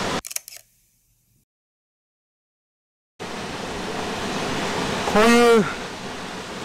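After a short clatter and nearly three seconds of silence, the steady roar of Ryujin waterfall in the Nishizawa Valley gorge rises and carries on to the end, with a brief spoken word near the close.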